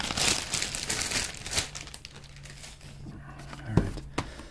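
Plastic packaging from an Emporio Armani watch box crinkles and rustles up close, loud at first and then thinning into sparse crackles and a few sharper handling knocks.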